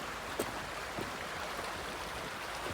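A river flows in front of a house on a farm where Kubota tractors are kept, giving a steady, faint broadband rush of water with a few small splashes.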